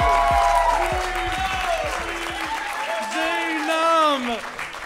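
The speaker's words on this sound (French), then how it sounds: "un tonnerre d'applaudissements pour Mathieu Bouillon" Audience applause at a comedy stage show welcoming performer Mathieu Bouillon, a loud, full ovation with a raised voice calling out over the clapping throughout.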